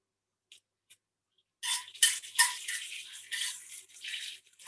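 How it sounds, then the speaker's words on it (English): Curry leaves frying in hot ghee, a close crackling sizzle that bursts in loudly after a second and a half of near silence and keeps spitting and popping unevenly to the end, with no talking. "So you can hear that sizzling away now."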